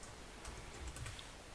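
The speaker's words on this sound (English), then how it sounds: "So from the terminal, you will need to type a few commands" Quiet, close keystrokes on a computer keyboard as commands are typed into a Linux terminal, a short burst of soft irregular clicks over faint room hiss.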